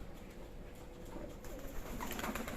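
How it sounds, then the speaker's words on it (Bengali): Racer pigeons coo softly in a loft, overlapping low throaty calls repeating steadily at close range with faint rustling around them. "এই যে রাখাডাকি করতেছে দেখুন এরকম তো সব ডাকাডাকি করতেছে"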